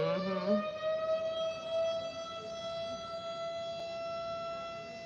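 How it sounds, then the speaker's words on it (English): A wailing siren holds a steady, sustained tone with rich harmonics, loud and continuous, winding slightly at the start before settling. "That siren, I swear,"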